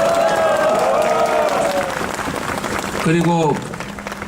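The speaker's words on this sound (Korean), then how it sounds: "박수 한번 주십시오" A crowd applauds at a political rally for a presidential campaign announcement, steady clapping and cheering under a voice speaking over it.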